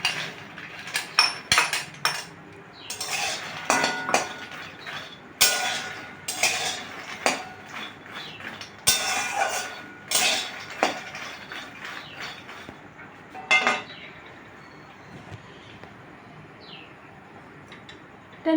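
Makhana and cardamom are dry roasted in a pan, with repeated close clinks, rattles and scraping stirs that come in irregular bursts, then thin out into quieter moments.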